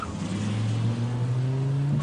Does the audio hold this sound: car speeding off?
yes